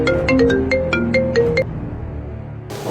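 A phone plays a bright melodic ringtone while an outgoing call rings through, a quick run of clear repeated tones lasting about a second and a half, then a quiet pause and a burst of hiss at the end.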